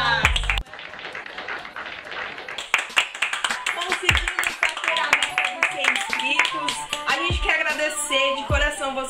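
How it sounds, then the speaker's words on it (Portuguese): Rapid, uneven clapping and hand slaps run throughout, mixed with busy voices talking over them. "Palmas!"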